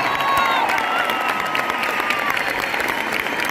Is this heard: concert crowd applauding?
yes